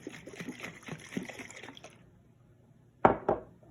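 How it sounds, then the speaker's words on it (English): A lidded container holding water and vinegar gets shaken, giving a brief sloshing liquid rattle. It fades to silence, then two short sharp sloshes follow. "This time, when we put the lid on, we're going to give it a shake."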